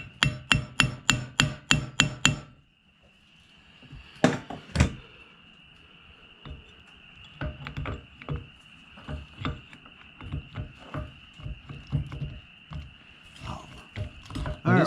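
Metal-on-metal hammer blows on the axle of a Wheel Horse 8-speed garden tractor: a fast run of sharp ringing strikes, a pause, then scattered irregular hits with a faint steady hum behind them.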